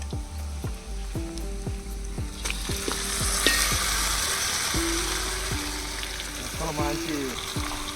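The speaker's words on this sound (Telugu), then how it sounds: "ఇప్పుడైతే చికెన్ కూడా వేసేస్తున్నాం." Chicken pieces drop into hot oil in a kadai over a wood-fired stove, sizzling and crackling steadily with repeated stirring clinks and scrapes, close up, under faint background voices and birdsong.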